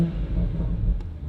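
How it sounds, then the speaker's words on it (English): A BMW M140i with a Williams Performance intake pipe revving in neutral, a loud close low engine rumble that holds steady and then eases off after about a second, with no one speaking. "Give it a few revs"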